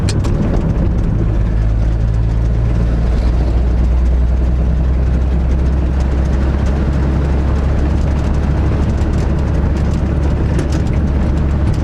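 A 1960 Ford F100 pickup engine idles with a deep, rough, tractor-like rumble that stays loud and steady throughout, with no talk over it.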